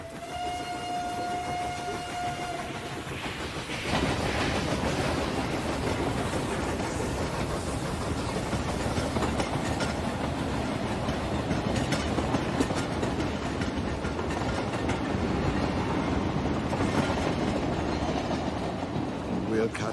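A train rumbles steadily along the rails with a continuous clattering roar, close and loud, with people talking over it and a brief tonal whistle at the start.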